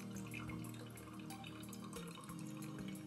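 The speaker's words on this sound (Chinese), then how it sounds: "可以听到一样水声非常的大" Hot water is poured in circles over ground coffee in a pour-over brewer, a continuous gurgling, splashing trickle that stays steady and fairly faint, with no one talking.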